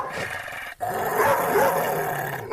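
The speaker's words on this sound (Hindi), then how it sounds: "टॉमी उन पर भौंकने लगता है" A dog barks and growls at passing people in one loud, sustained rough outburst, close by with a brief break near the start.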